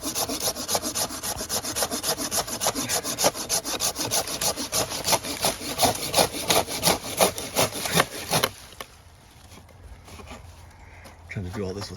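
Rapid back-and-forth strokes of a hand saw cutting through oak branches, loud and close for about eight seconds, then stopping abruptly to quieter background with a brief voice.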